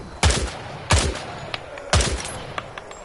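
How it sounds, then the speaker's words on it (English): Gunfire in the video game Hell Let Loose Vietnam, with three loud close shots spaced about a second apart, each trailing a short echo, followed by fainter pops. "Shoot the targets ahead, aiming for the helmet to guarantee an instant kill."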